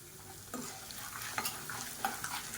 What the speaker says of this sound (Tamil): இப்போ பாருங்கள், வரமிளகா நல்லா வறுபட்டுருச்சு.